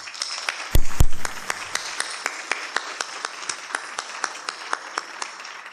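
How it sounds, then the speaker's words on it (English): Sparse applause at an indoor business hall of fame event: a loud thump near the start, then a few hands clapping in a slow, regular, fairly distinct rhythm. "give them a round of applause for their effort for this evening"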